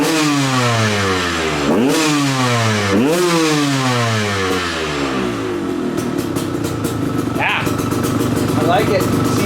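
A KTM motorcycle engine idles and revs on its own with no choke or throttle applied, its harmonic pitch sweeping up and down in repeated surges before settling into a steady, clattery idle, loud and close.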